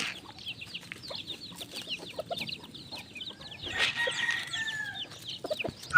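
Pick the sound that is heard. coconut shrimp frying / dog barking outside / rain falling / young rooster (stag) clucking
young rooster (stag) clucking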